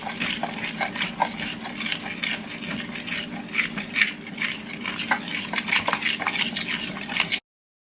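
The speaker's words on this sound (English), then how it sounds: "I'm just gonna like take a little bit of the flour at a time and mix it in." Flour is worked into pasta dough on a clean surface with a utensil, producing a steady run of soft scraping and tapping strokes, fairly close and fairly quiet.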